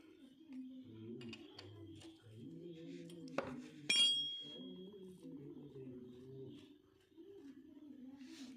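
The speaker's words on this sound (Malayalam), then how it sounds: "അടുത്ത് ഈ പാത്രം എടുത്ത് ഇവിടെ വയ്ക്കുക, ഓയിൽ ഡ്രെയിൻ ചെയ്യാൻ വേണ്ടി" Placing a container under a Yamaha Crux motorcycle to catch draining engine oil gives a sharp clink and brief rattle midway, over quiet background murmur.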